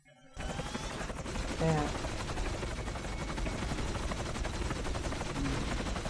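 Gunfire and a helicopter in the PS2 video game From Russia with Love, a steady dense rattle of game-world shooting and rotor noise that runs the whole time, with a brief spoken word over it.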